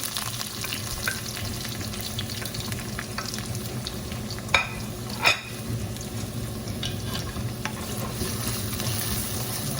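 Onion sautéing in a pan over a medium-high flame for a cabbage dish, giving a steady, even sizzle throughout with a couple of sharp utensil clicks near the middle and no voices.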